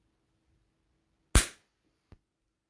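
A firework goes off in a sharp single bang that fades quickly, then a fainter crack follows about a second later, with near silence around both.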